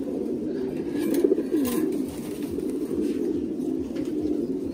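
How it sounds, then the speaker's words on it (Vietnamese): Thai Titan pigeons coo in a pair, soft low throaty calls repeating close by over a steady background hum. "Đây cho mọi người thấy chim bồ câu cặp này không?"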